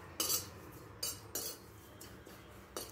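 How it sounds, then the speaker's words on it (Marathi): Kasuri methi (dried fenugreek) being dry-roasted in a pan over low heat, a few sharp utensil scrapes and clinks against the metal, quiet and close, with no voices. "कसुरी मेथी ही भाजून घ्यायची आहे"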